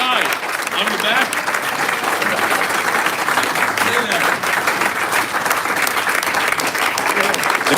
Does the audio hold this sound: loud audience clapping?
yes